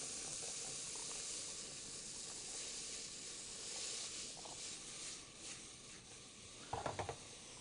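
Onions in butter sizzle in a pan with a steady, soft frying hiss, close and quiet, broken near the end by a few clinks and stirring sounds.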